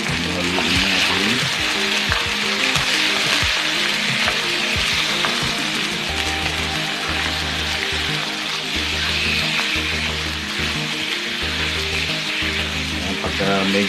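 Chicken pieces sizzle and fry in a pan while being stirred for Ilocano tinola, a continuous hiss with scraping utensil strokes and a rhythmic low hum running underneath.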